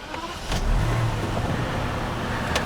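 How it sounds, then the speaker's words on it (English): A 2004 BMW 760i E65 with its V12 engine, bonnet open, fires up just after half a second with a sharp burst, then settles into a steady, smooth, low idle close by, with no talking. "we might as well start the engine while we got the bonnet open"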